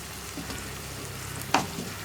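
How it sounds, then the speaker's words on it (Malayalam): Turmeric and hot chilli powder fry in a pan for a Kerala snake gourd and potato mezhukkupuratti, giving a steady, soft, close sizzle broken by one sharp stirring scrape near the end; no one speaks. "ഇനി നമ്മുടെ ഈ പൊടികളുടെ റോ ടേസ്റ്റ് മാറി വരുന്നത് വരെ നമ്മളൊന്ന് ഇളക്കി കൊടുക്കുക"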